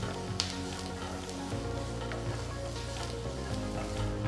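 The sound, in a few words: chopped onions frying in oil in a pan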